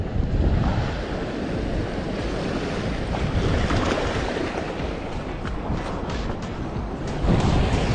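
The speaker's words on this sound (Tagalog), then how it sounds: "Tingnan nyo yung alon." Steady roar of surf rolling onto Muriwai Beach, Auckland, New Zealand, heavy and continuous, with wind buffeting the microphone throughout.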